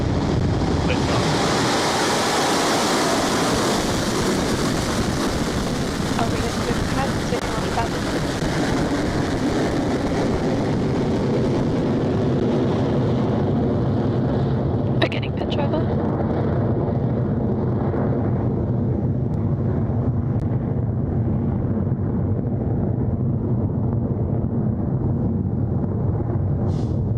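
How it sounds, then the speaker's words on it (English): A Rocket Lab Electron rocket lifts off from Launch Complex 1, carrying Viva la StriX. It gives a continuous broad roar that holds steady and then fades slowly as it climbs away, heard from a distance like wind or surf. "Liftoff for Electron and Viva StriX, now on its way to orbit"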